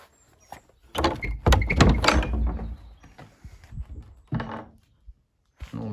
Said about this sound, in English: I'll go through the other door, which takes us upstairs